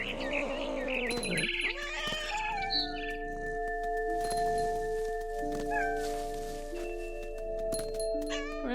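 A single drawn-out cat meow sounds near the start in the video game What Remains of Edith Finch. Sustained musical tones and chimes follow, and brief clicks and rustles run through the rest of the scene.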